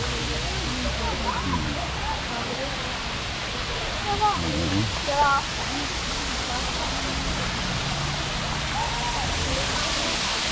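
A steady broadband rush of falling water at Sai Yok Noi waterfall fills the whole clip, with faint birdsong and distant voices over it.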